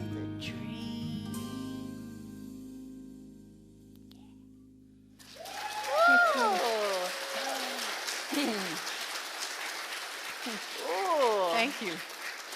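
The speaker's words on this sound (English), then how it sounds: "The sound of applause is sweet." Audience applause at a church service, a dense wash of clapping that starts abruptly after music ends and continues steadily, with a speaker's voice talking over it at several points.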